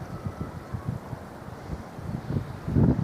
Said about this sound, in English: the wind is bitterly cold